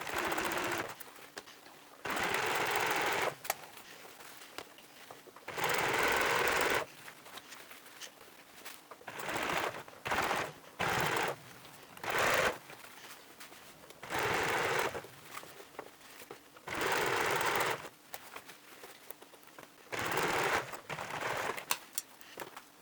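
A sewing machine stitches fabric for a pull-string pencil case, running in repeated close, rapid mechanical bursts of several seconds each, separated by short quiet pauses.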